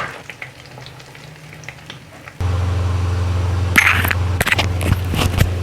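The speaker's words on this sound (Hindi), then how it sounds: "ये बाकी की जो है ना ये भी फ्राई कर लेती हूँ" Lahori fish fries in hot oil, a soft sizzle that suddenly jumps to a loud, dense crackling as more pieces go in, with spatters and a few utensil clinks, no talking.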